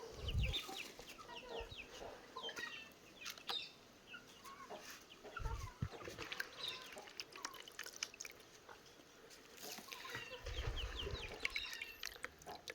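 Native country chickens clucking in a farmyard, scattered soft clucks and calls from several birds at moderate distance, with occasional louder bumps and knocks nearby.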